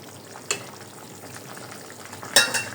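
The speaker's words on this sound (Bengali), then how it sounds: "তরকারিটা বলক চলে আসছে" Fish and cauliflower curry comes to a boil in a covered pot, a soft steady bubbling hiss broken by two brief clinks of a lid or utensil.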